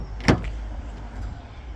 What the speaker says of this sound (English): Shut the boot using the button there.